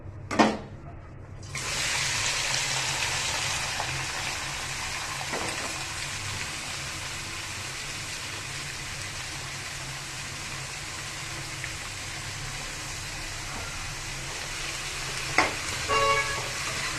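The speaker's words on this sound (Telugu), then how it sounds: "జీలకర్ర వేగుతుంది కదా, పచ్చిమిర్చి, ఆనియన్స్ వేసుకుందాం." Cumin, green chilies and chopped onions sizzle steadily in a hot pan, a broad continuous frying hiss after a brief clatter at the start, with a few stirring knocks near the end and no talking.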